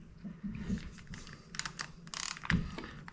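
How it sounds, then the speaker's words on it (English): A ratchet fitted with a 5 mm Allen bit turns on the top of a coilover shock for a Tesla Model Y, giving quick close clicking runs mixed with metallic handling noises, with no talking. "I can use a 5 Allen on a ratchet."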